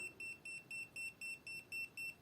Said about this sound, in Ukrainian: Біпер пікає